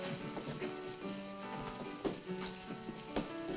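Steady rain falling at night in a western town, a continuous hiss with scattered drops and patters, moderately loud and heard on its own without speech.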